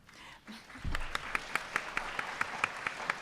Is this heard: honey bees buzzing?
no